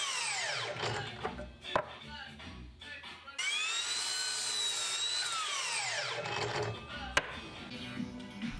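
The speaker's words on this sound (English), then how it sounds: "and made the cuts at the mitre saw." A mitre saw cutting laminated oak and sapele wood: the motor whines up and winds down in repeated passes, with a long sustained cut in the middle and brief clicks and knocks between.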